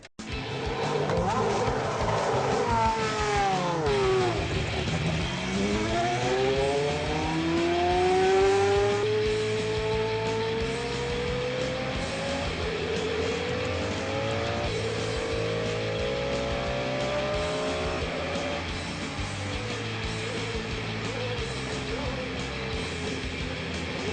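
Formula 1 race car accelerating on a track, its high engine whine sweeping up through repeated gear changes, loud and sustained, with the pitch rising and falling as it runs.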